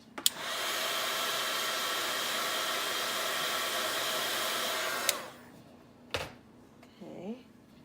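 A hair dryer or heat tool blows steadily on a handmade Easter card to dry watercolor paint, a loud continuous whirr for about five seconds that then cuts off, followed by a few faint handling clicks and rustles.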